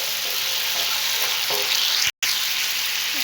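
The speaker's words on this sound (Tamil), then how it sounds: "இப்போ பார்த்திங்கன்னா நல்லாவே கொதிக்குது." Lemon rice tempering with green chillies bubbles and sizzles in a pan, a steady loud frying hiss with a brief silent cut.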